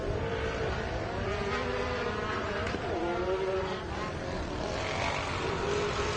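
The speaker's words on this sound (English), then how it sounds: "Drapkin sounds like he's the one that sounds like a John Deere tractor" Race engine from Drapkin's machine in a main event at Chandler, Arizona, droning with a loud, rough, tractor-like tone that holds steady and close throughout.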